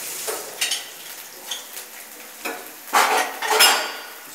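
Jeera rice mixture cooks in a pan over a low flame, with a soft sizzle under intermittent scraping and metal clinks from a spoon stirring, close by and fairly quiet.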